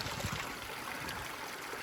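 A small stream of water flowing under a flat covered section in Canadian woodland, a steady broadband rush and trickle, fairly close and continuous with no voices.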